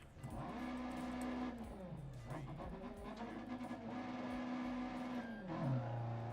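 A rally car in DiRT Rally 2.0 roars through a stage, its engine droning steadily and rising and falling with gear changes, tires squealing and skidding on loose surface, loud and continuous throughout.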